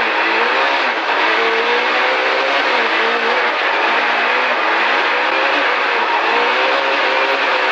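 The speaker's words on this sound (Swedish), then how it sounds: "Värma upp bilen lite först här nu." A Volvo 240 rally car engine warms up in a steady, continuous drone with a slight rising rev, close and loud, with no talking.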